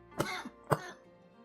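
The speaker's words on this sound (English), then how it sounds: "Coughing fit came out of nowhere." Two sharp, harsh coughs with throat clearing come from a character in the game Wandering Sword, spaced about half a second apart, close and loud, followed by a quieter rasp.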